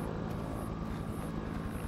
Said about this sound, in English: If the helicopter's being told to stay away, should we go near it?